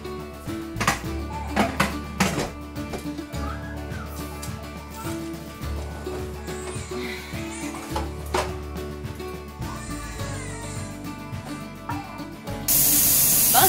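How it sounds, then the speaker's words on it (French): Steam venting steadily from a Presto pressure canner during home canning of tomato-vegetable soup, a continuous loud hiss with clicks and rattles layered on top, swelling to a stronger burst near the end. "c'est la vapeur qui monte. Ça fait 10 minutes qu'elle est en train de ventiler."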